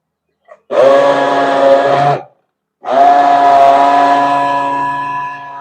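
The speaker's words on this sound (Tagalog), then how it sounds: "blender natin yung papaya" A blender blending papaya whirs loudly in two steady bursts, the first about a second and a half long, then a brief pause before a longer run that slowly fades.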